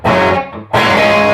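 A distorted electric guitar through a modded Marshall amplifier rings out in two bright, sustained chords, with a brief dip between them and a full, saturated tone.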